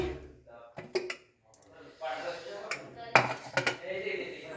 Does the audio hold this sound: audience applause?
no